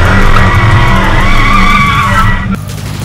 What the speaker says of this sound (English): We have a 2019 Dodge Challenger. Hellcat, it is a wide body,